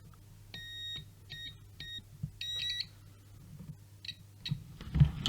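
A multimeter's continuity tester beeping as its probes touch guitar switch wiring, several short high tonal beeps in irregular bursts, some longer, over faint clicks and handling noise.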